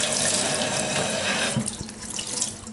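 Running tap water pours into a sink while fireplace glass is rinsed under it, a steady close gush that thins and splashes toward the end.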